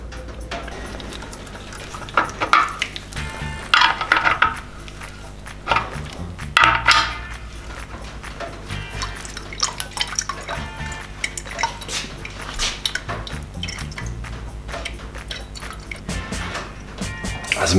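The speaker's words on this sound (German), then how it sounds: "lasse das überschüssige Material dann wieder in die Dose" Excess tank sealant for a Horex Regina fuel tank draining back into its metal can, with irregular drips, trickles and metallic clinks scattered through a quiet workshop background.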